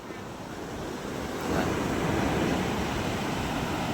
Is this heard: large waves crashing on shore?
yes